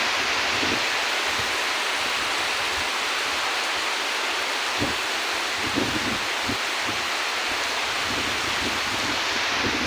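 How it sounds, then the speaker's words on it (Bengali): Rain falls steadily in a constant soft hiss, with a few faint thumps scattered through it. "দিনের বেলায় যে এখন হচ্ছে বৃষ্টিটা"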